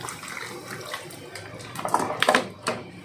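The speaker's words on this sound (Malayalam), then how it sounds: "കുറച്ച് വെള്ളം ഒഴിക്കുക." Water poured into a glass of homemade summer drink with sugar and a few ice cubes, heard as splashing bursts that grow louder toward the end, over a faint background hiss.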